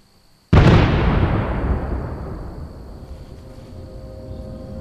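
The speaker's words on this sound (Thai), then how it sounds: "หรืออาจจะเป็นหม้อแปลงระเบิดที่หน้าหมู่บ้านก็ได" A transformer explodes as a film sound effect in a doomsday short film: one sudden loud blast after a moment of near silence, then a long rumbling decay that fades over several seconds.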